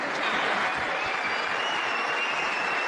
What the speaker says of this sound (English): A great round of applause from the audience here